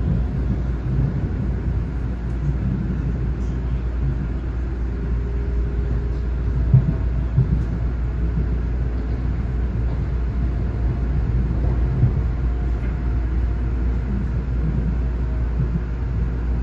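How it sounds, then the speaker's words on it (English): Steady low rumble of an LIRR M9 commuter train riding between Mineola and Hicksville on a 12-car run toward Ronkonkoma, with constant wheel and motor drone and faint track clatter, continuous with no talk. "This is the train to Ronkonkoma"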